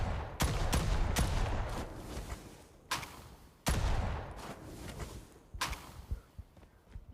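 Gunfire from a JAK-12 shotgun in a video game: several sharp, loud blasts spaced a second or more apart, each with a short decaying tail, no talking.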